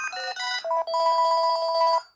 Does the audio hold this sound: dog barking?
no